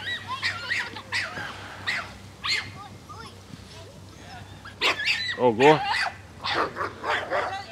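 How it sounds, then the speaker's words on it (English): Several dogs bark and yelp in short overlapping bursts outdoors in an evening park area, growing busier toward the end like a scuffle, with a brief spoken exclamation mixed in. "Possibly a dog fight."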